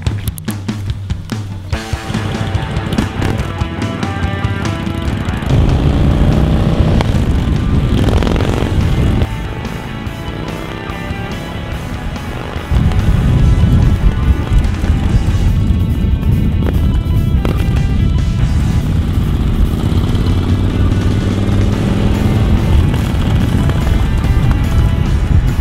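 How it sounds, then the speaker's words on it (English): A bike drags an iPhone in an Wrapsol Ultra protective wrap along a road at about 30 miles an hour, producing a loud steady rumble of engine and road noise with rough scraping that surges when speed picks up. "We're gonna hook it up to my bike and see if we can drag it 30 miles an hour down the road"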